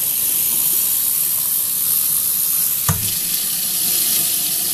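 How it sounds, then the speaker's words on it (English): Cold tap water runs into a 2-cup measuring cup in a steady, close hiss with one brief knock midway, continuing without speech. "So it's a 2-cup measuring cup. What I'm going to do is just fill it up."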